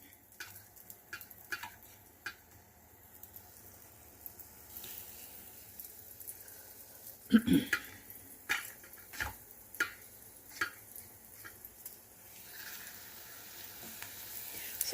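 Raw banana slices frying in a pan over a low flame give a soft continuous sizzle, faint and close, broken by occasional sharper clicks and scrapes of stirring.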